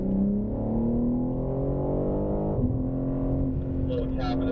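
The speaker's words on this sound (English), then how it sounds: "Let's accelerate through here." BMW M3 accelerating on a racetrack, with a steady, droning engine note that climbs in pitch, drops briefly as a gear changes, then keeps pulling from inside the car.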